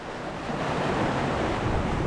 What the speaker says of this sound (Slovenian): Zdaj moram tale val počakati, lejte.